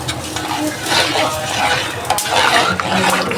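A tempering of fried cumin, dried red chili and chopped garlic goes into dal with a loud sizzle. Stirring and clinks of a metal pan and utensil run through the steady frying hiss.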